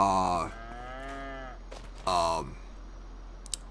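Cows on a farm in Farming Simulator 25 give two distinct moos, the first long and drawn out, the second shorter, close and clear, with quiet gaps and a brief click afterward.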